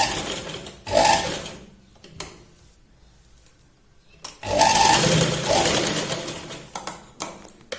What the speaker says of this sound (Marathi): या पॉइंटला आपण डबल शिलाई लावून घेऊया.